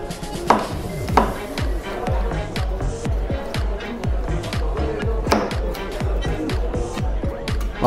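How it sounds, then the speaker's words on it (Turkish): Rapid, steady knife chops thud on a cutting board, cutting lamb meat into small pieces for skewers, dozens of sharp strikes in a quick rhythm, a few louder whacks standing out, close and continuous. "Bunu da çöp şiş yapalım. Küçük küçük doğrayalım ustam."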